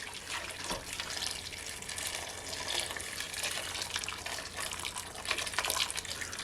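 Water pours steadily into a pot of peeled potatoes, a continuous rushing splash that stays close and even throughout with no talk over it.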